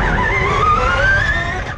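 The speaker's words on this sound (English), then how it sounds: "So here I go, driving a Formula E car." Electric Formula E race car pulling away, a rising whine of motor tones sweeping upward over a low rolling rumble, close and steady for under two seconds, no talk.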